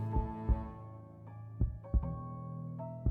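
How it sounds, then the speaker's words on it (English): A heartbeat sound effect thumps in low, irregular pulses over a sustained tonal hum, heard alone without speech. "Narinig mo ba yung heartbeat sound? Meron. Nice effect."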